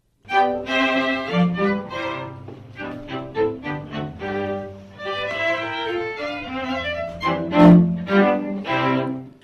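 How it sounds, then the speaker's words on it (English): Bowed strings playing together in a live ensemble, rich sustained harmonies with swelling and fading phrases, close and full. "a Cardiff-based string quartet"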